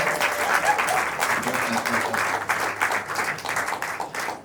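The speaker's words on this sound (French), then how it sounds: "Est-ce qu'on peut les applaudir bien fort?" Sustained applause from a film premiere audience, a thick wash of many hands clapping together at a fairly even level throughout.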